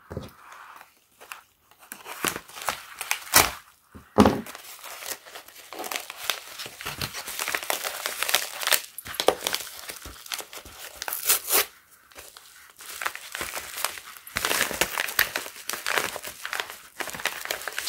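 Plastic packaging of a digital caliper being torn and unwrapped up close, irregular crinkling, ripping and rustling bursts with short pauses, no speech.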